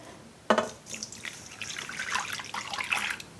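Water poured into a bowl to dissolve yeast for yeast bread, starting with a sharp splash and then trickling and splashing close by for about three seconds, with no talking.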